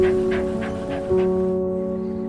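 A dog pants in quick, rhythmic breaths, about five soft puffs, under steady tonal music in an animated film scene, with a faint whimpering tone blending into the sustained notes.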